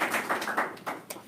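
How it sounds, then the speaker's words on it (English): Brief applause from the audience at a Vue.js Orlando tech meetup: a short burst of scattered hand claps, moderately loud and close, lasting just over a second. "Everybody please give a round of applause"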